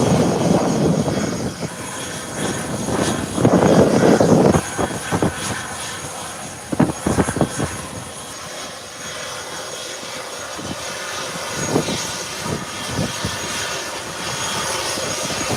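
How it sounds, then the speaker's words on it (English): A Beechcraft 1900 turboprop arriving from Grand Turk taxis at an island airport, its loud engine drone rising and falling steadily with broadband rumble and occasional swells, no speech. "Cables Express Beechcraft 1900 arriving from Grand Turk, the nation's capital."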